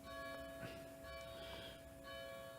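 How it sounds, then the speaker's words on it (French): Church bells ring continuously from a moderate distance, their overlapping sustained tones swelling and fading slightly, with a faint voice briefly audible beneath them. "Allez, vous entendez les cloches, je suppose."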